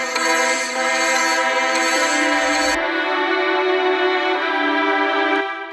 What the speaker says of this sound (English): I bring back that violin melody because I didn't feel like making an actual lead and I liked how the violin sounded in the drop.